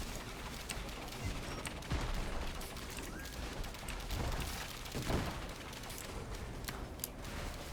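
Rapid bursts of gunfire-like pops and explosive thumps from the nail gun in the video game Risk of Rain 2, layered over a dense, continuous game soundscape at moderate loudness with no speech.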